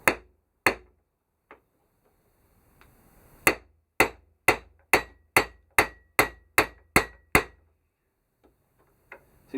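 Hammer blows on an aluminium drift driving a shaft out of a Royal Enfield Bullet four-speed gearbox, with a nut fitted to guard the threads. A few separate strikes come first, then a pause, then a rapid, evenly spaced run of about ten sharp, loud knocks.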